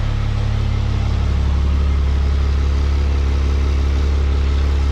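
A diesel truck fitted with a selectable hood stack exhaust cutout idles loudly and steadily, exhaust routed out the back, a deep constant rumble with a slight shift in tone early on and no talking.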